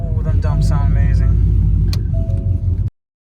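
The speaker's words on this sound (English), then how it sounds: "Oh, them dumps sound amazing." A race car engine roaring loud and close through open exhaust dumps, a steady heavy rumble with a rising rev near the start, under a voice talking, then cutting off abruptly.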